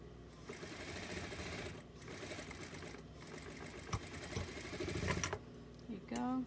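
A sewing machine back-stitches a doll romper seam in rapid mechanical bursts of clattering stitches, pausing briefly between runs, close by, with a voice speaking near the end.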